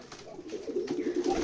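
A pigeon coos softly at a pigeon farm in Betikhola village, Keshabpur, Jessore, giving a brief, low, murmuring call heard up close.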